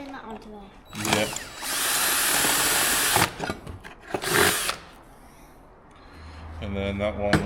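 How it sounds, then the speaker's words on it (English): A power drill runs in sustained whirring bursts while holes are drilled during work on a tour bus, loud and close, with people talking between the bursts. "Are you drilling that onto there?"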